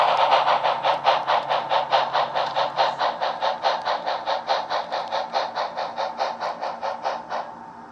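An HO scale Bachmann 2-8-2 model steam locomotive runs with a rhythmic, evenly pulsing chuff, a steady rapid beat of sound-effect puffs that continues close and clear before stopping.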